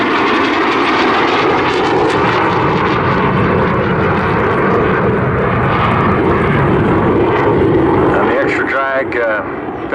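A jet aircraft with 25-degree swept wings roars loudly and continuously as it flies past at an airshow, the powerful engine noise holding steady before easing slightly at the end.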